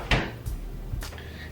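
A kitchen freezer door opens and shuts in a home while a brine is put in to cool, giving two quick soft thuds with a faint rustle between, close and moderately loud.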